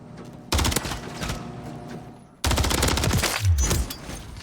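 Rapid automatic gunfire from the video game Modern Warfare III comes in two loud close bursts with a brief quieter gap between them and no speech.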